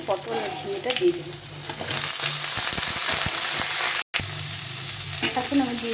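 Pointed gourd and ridge gourd drop into a pan of frying potatoes, and a dense, close sizzle runs throughout, punctuated by a quick run of spatula taps and one brief break in the sound.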